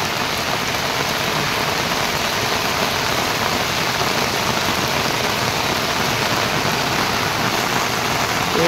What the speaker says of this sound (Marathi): पाऊस बघा भरपूर पडतोय आता.